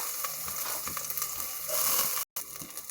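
Garlic and onion sautéing in oil in a pan, a steady close sizzle with light crackling and a few stirring scrapes, briefly cut off near the end.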